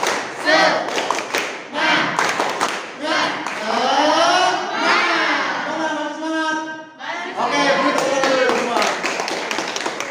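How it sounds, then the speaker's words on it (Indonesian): A school class performs a rhythmic spirit clap, groups of children clapping in short patterned bursts mixed with shouted chanting voices in a classroom. "kita tepuk semangat dulu ya"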